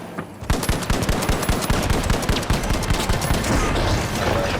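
Gunfire in the video game The Finals: a loud, dense rapid stream of shots that continues almost without pause after a brief quiet start.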